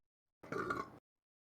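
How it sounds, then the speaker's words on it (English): A single short burp, close and fairly quiet, about half a second long and heard alone against silence. "Burp."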